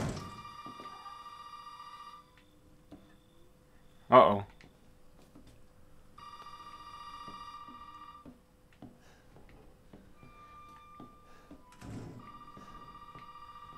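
A telephone rings in Resident Evil 7 in repeated electronic trilling bursts separated by pauses, with a sudden loud thump partway through and someone speaking quietly between rings.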